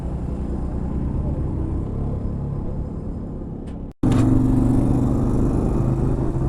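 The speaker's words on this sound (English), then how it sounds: "we heard noises of cars running around" Steady rumble of car engines driving around nearby at the Mecum auction in Kissimmee, a continuous low drone that briefly cuts out and then resumes slightly louder.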